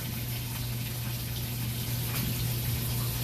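Water from a laundry tub draining back up through a plumbing clean out with a pitch problem, a steady close rushing gush that runs without break.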